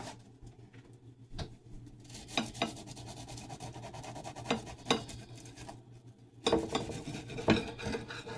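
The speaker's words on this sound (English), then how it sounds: "Let me get my knife out." Knife sawing through a sandwich, a close, soft rasping and scraping with a few crisp crunches and clicks against the plate, steady over several seconds with no talk.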